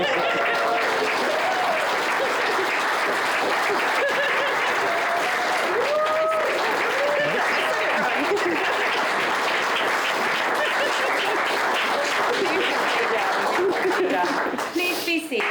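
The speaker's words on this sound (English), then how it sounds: "Let's have a round of applause." Sustained loud applause from a wedding crowd, dense and continuous clapping with a few voices and cheers mixed in.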